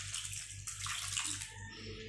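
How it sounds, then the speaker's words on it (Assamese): Water is poured into a pan where small fish are cooking, a steady splashing trickle lasting a couple of seconds, close and fairly quiet, with no voices. "ইয়াত মই আৰু অকণমান পানী দিম"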